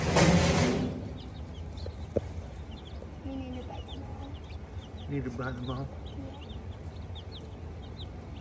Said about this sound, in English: I do miss having some baby chickens.